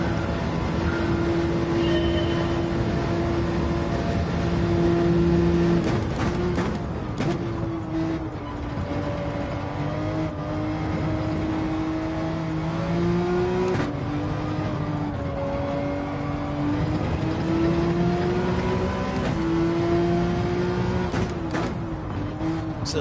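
A GT3 racing car engine in Gran Turismo 7 gameplay holds steady, rising and falling tones as it revs through gear changes, loud and continuous with no talk.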